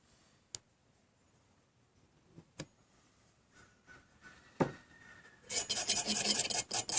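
The back of a saw blade scrapes dry wood with a harsh, rapid rasping that starts after a few isolated clicks and taps, then runs loud and continuous for the last second and a half.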